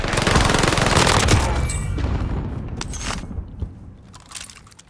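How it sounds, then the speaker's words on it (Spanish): Rapid bursts of video game gunfire crackle loudly, then thin out into scattered single shots and a few distant pops, with no talking. "Escuché balazos por acá"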